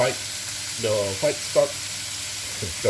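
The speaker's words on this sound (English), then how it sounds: "We're going to put in the garlic." Garlic goes into a hot wok for shrimp lo mein, giving a steady oily sizzle under a few louder bursts of crackling and stirring, close and moderately loud with no talk.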